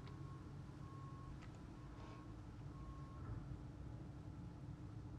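Trucks rumble low and steady outdoors while a reversing alarm sounds a few faint, evenly spaced beeps in the distance beneath the engine drone.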